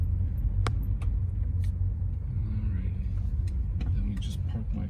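A Hyundai Sonata rumbles at low speed under steady engine noise while it is being parked, with a constant low drone that stays close throughout.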